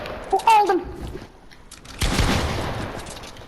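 Gunfire from an AWP sniper rifle in a shooter video game: a burst of sharp shots and a loud crack near the start, then a broad noisy blast after two seconds, with a voice speaking over it.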